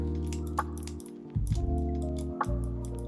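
Buttons clicking on an IINE Elite Plus game controller with a Zelda design: a few light, sharp clicks spaced apart over a steady background of music.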